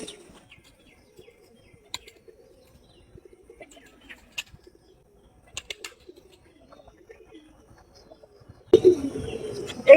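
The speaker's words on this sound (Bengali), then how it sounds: "এখানে রাখা হচ্ছে দেশি গোলা কবুতর, ডোমেস্টিক পিজিয়ন" Domestic pigeons in a cage at Mirpur zoo in Dhaka give faint, scattered coos and chirps over quiet surroundings, followed by a sudden louder burst of noise at the very end.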